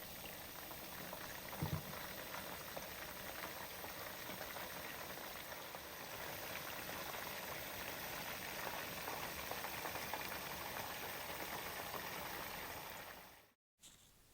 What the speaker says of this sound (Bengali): এখন মিডিয়াম হিটে আমি 4 থেকে 5 মিনিট ভাজবো